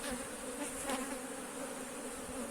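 Worker honeybees buzz steadily at a hive during a queenless split, a dense continuous drone of many wings holding close and even throughout with no talk.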